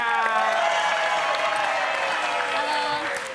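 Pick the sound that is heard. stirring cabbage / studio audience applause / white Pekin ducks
studio audience applause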